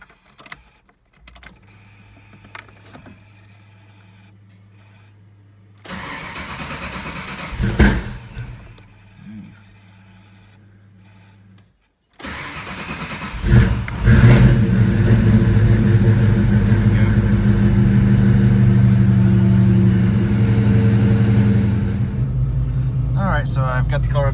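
A car's engine is started after an injector swap, then runs and revs with a rising, steady roar that builds and holds loud near the end, following earlier quieter handling noises and jangling keys.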